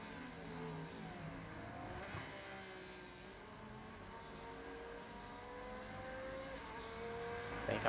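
A GT3 race car at Circuit of the Americas in iRacing, engine howling at full throttle with rising, sweeping pitch through the gears, close and continuous, with no talking.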